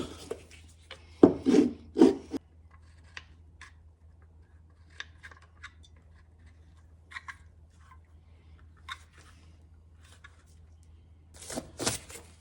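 Glued scales on a kitchen knife handle are clamped up: a cluster of wooden knocks and rubbing clunks at the start, faint scattered handling noises, then another burst of clatter at the end.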